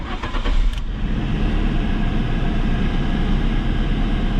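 A Fiat Panda 4x4 with its air conditioning on full cranks briefly with a few quick starter pulses, then catches and settles into a loud, steady idle close by.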